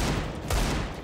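A single gunshot in a competitive first-person shooter match, a sharp burst standing out over continuous game noise for about a second.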